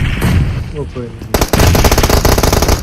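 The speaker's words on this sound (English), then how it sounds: "Shots from the outside." Gunfire from PUBG Mobile competitive scrims, a loud sustained burst of rapid automatic shots that continues steadily after a brief lull, with a commentator talking over it.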